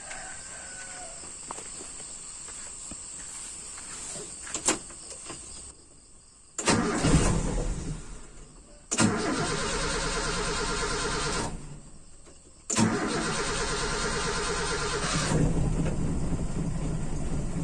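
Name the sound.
motorcycle engine with Aisan carburetor being started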